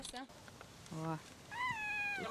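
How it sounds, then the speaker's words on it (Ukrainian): A cat meows several times at a rabies vaccination, with short pitched cries rising and falling, one long drawn-out meow toward the end, close and clear over light background noise. "Сусідка Олега Марія Салавага принесла на вакцинацію кота Рижика."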